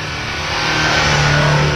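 A Moskvich 2141 car engine revs hard while driving through sand, a loud close mid-pitched strain that rises steadily in pitch over a short sustained burst.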